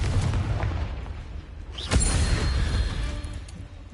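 A Confringo spell explodes in Hogwarts Legacy with a single booming blast about halfway through, over a steady bed of game ambience and rumble that continues afterward.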